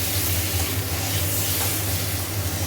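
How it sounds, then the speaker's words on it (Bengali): Tomato and salt fry in a pan for an egg curry, giving a steady, close hiss and sizzle with a low hum underneath and no voices. "টমেটো আর নুন দিয়ে দিয়েছি পরিমাণ মতো, আর একটুখানি ভাজা হলে আদা রসুনের পেস্টটা দেবো।"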